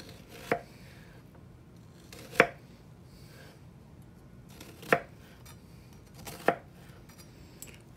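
A knife dices an onion on a cutting board in four sharp, well-spaced chops, each a crisp near thud against a quiet background.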